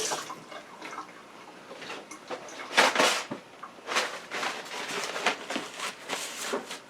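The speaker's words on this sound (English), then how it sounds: "let me wash my hand." Hands are washed under a running kitchen tap while onion and garlic paste is being made, giving a steady splashing water flow that swells and fades as the hands move under the stream, close and fairly loud.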